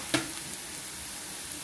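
Onions frying with turmeric and salt in a pan for an egg porutu, giving a steady soft sizzle with one brief louder scrape of stirring near the start.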